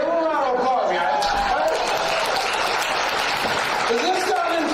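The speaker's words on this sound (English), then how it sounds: "Give them a round of applause, guys." Audience applause at a regional business event, a steady wash of clapping from a crowd with voices talking over it throughout.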